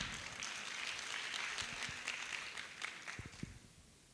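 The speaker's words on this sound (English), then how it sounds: "A round of applause for her, please." An audience at a foundational learning exchange event claps steadily, a dense patter of hands that thins out toward the end with a few last louder claps, fairly distant in the room.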